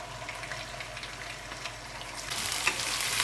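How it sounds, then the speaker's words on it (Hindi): Chicken pieces fry in hot oil over high heat for a dhaba-style chicken karahi, with a continuous close sizzle and crackle that grows louder and brighter toward the end. "तेज़ आंच पे चिकन फ्राई करेंगे हम।"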